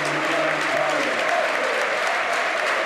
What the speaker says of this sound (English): he's going to get a big cheer, Connor Wickham.